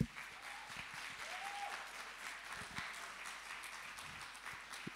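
A church congregation applauds during a Christmas Eve Sunday service, steady scattered clapping at a moderate distance, with some faint voices mixed in.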